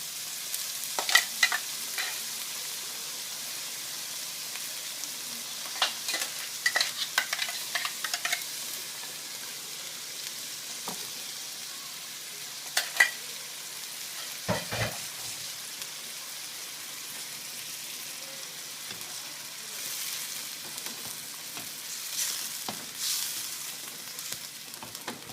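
Onion cooking on low flame in a pan while prawn ghassi is prepared, a faint, even sizzle throughout with occasional light clinks and stirring taps.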